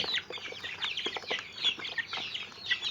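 Backyard chickens cluck and chatter softly in a close, busy flock around a water drinker, with overlapping calls and some scratchy movement.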